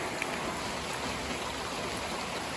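Steady rain from a passing storm front hisses evenly, a soft constant wash of drops with no other sounds standing out.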